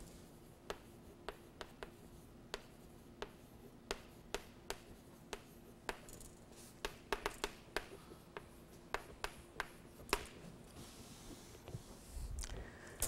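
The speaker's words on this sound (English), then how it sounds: "let me write it here" Chalk or marker strokes on a board during a stochastic programming lecture, a steady series of short, sharp taps and scrapes close by, spaced irregularly over a quiet room hum.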